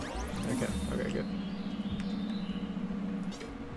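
A cat meows close by in a drawn-out, wavering call that lasts most of the moment, with faint background noise behind it.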